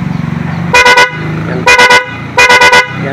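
Double horn fitted to a Euro 150 motorcycle honks loudly in three bursts of three to four quick toots each, close up over a low idling engine.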